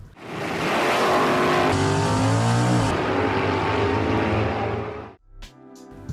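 Hemi 426 V8 engine roaring loud and close through a sustained rev, then cutting off abruptly near the end with a few trailing mechanical clatters.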